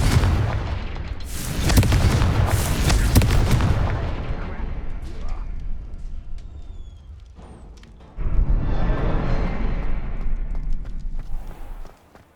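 A Confringo spell explosion in Hogwarts Legacy gameplay, with heavy booming blasts and rumbling that swell at the start, fade, then hit again loudly before cutting off.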